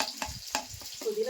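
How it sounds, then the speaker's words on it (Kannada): Chopped onions frying in a pan for a paneer masala paratha give off a soft, brief sizzle, broken by quiet scrapes of stirring. "ಉಳ್ಳಾಗಡ್ಡಿ ಇದೆಲ್ಲ ಸ್ವಲ್ಪ ಫ್ರೈ ಮಾಡ್ಕೊಂಡು"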